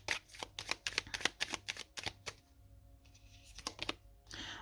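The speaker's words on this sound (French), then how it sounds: "on va remettre une carte dessus sur le 7 d'épée" A tarot card is drawn and laid down during a reading, heard as a quick run of close, light paper flicks and shuffling taps followed by a short soft slide.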